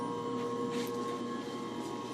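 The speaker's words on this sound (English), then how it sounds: "The noise you hear is my 10 horsepower motor that's for my phase converter for that side of the shop." A 10 horsepower motor driving a phase converter in a machine shop hums steadily with a constant electrical whine and broad mechanical noise, continuous and moderately loud throughout.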